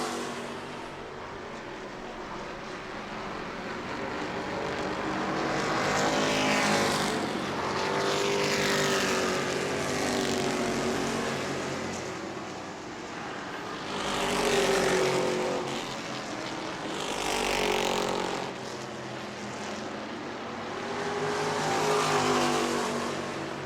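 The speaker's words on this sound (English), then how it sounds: "Justin Spears' machine keeps locking up the tires going into the corner" Race cars circle a track at New Smyrna, one repeatedly locking its tires into the corner: engines roar loudly and continuously, swelling and fading as cars pass close, with no talk.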